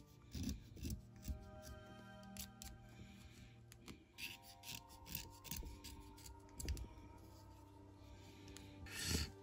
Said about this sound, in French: je vais commencer à gratter les côtés